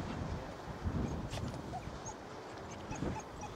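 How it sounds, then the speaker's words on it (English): A dog whimpers and whines faintly in short bursts outdoors on a warm day overlooking the village at Cadgwith Cove in Cornwall, with steady wind and ambient noise underneath. "And a whiny dog."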